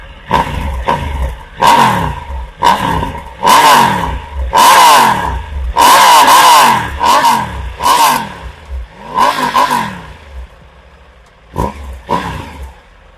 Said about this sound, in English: and let's give it some revs.